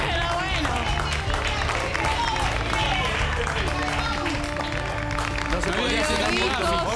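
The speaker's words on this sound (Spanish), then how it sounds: "Aplauso de pie para Silvia, señoras, señores." A studio audience at a television talk show gives a standing ovation. Applause and cheering run steadily underneath, while a host's voice talks loudly over the crowd.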